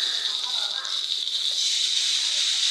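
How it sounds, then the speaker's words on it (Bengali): Singh fish frying in hot oil, a steady close sizzle and hiss throughout with a faint voice in the background. "ওই তেলের মধ্যে শিং মাছগুলো ভাজে নিলাম"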